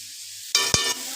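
Green chili paste hitting a hot frying pan, bursting into a loud sizzle with a sharp stirring scrape midway, then settling into a steady hiss after a quiet start.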